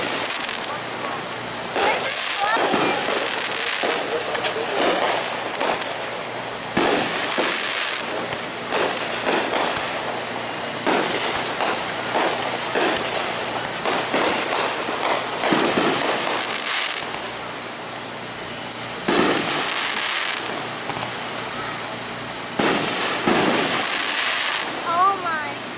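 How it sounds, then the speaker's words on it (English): Fireworks burst repeatedly at a motor speedway, a dense stream of crackling explosions and sharp booms rising and falling in loudness, with a crowd and people talking nearby throughout. "So everybody thought the fireworks were going to be over here."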